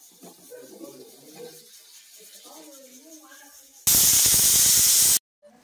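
A pressure cooker holding banana-leaf-wrapped bangude fish lets out a loud, steady hissing whistle of steam for about a second and a half, cutting off abruptly, after a stretch of speech.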